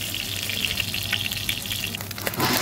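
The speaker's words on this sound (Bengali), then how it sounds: "আর মাছগুলো ভাজা হতে হতে, এতগুলো মাছগুলো আছে তো সময় লাগবে যেহেতু" Tangra fish frying in a pan give a steady, soft hiss and crackle of oil, joined by a brief clatter near the end.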